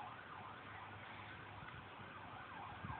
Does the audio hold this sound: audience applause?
no